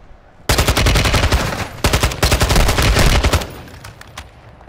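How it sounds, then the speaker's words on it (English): Rapid automatic gunfire from a multiplayer shooter in Resurgence duo mode, loud and close, in dense sustained bursts with a brief gap, then fading to scattered faint shots. "Ada orang tembak."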